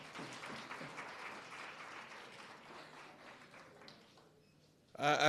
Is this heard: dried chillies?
no